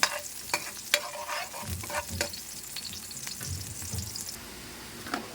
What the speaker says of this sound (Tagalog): Haluin na natin hanggang sa mag-brown yung ating bawang.